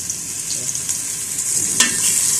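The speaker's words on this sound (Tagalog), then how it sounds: "Magluluto tayo ng ampalaya. Ginisang ampalaya." Bitter gourd (ampalaya) sautéing in a pan with onion and garlic gives a steady hiss and sizzle, with light clicks of stirring, close and continuous, heard alone.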